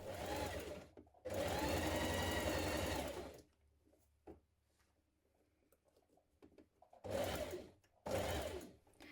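Sewing machine stitching a 1.5 cm seam allowance on a jumpsuit, two close bursts of rapid, steady whirring stitching separated by quiet handling noises, with two shorter runs at the end.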